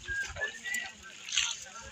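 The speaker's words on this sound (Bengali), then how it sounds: "পিছনে আরো নৌকা দেখা যাচ্ছে।" Wooden boats glide through the flooded Ratargul swamp forest, giving a soft, steady wash of water and hull noise with faint splashes and a light breeze, with people murmuring nearby.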